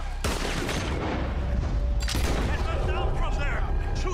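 Heavy gunfire in Red Dead Redemption 2 on the island of Guarma, two loud booming volleys with dense rattling shots, while voices shout over the noise.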